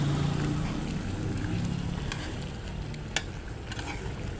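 Food being stirred and mixed in a cooking pan, a steady broad sizzling hiss with scattered scraping clicks from the utensil, close and continuous with no talking.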